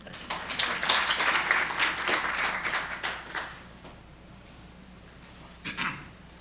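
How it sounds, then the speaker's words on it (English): Audience clapping for presenters at a community college health and wellness event, a dense burst of applause that thins out after about three seconds, with a few scattered claps near the end. "please give them a round of applause as we get started"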